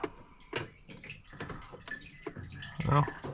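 Fuel dripping from a Mazda NB Miata fuel tank during a fuel pump replacement: faint, scattered drips and trickles, quiet and close, with a slightly louder splash near the end.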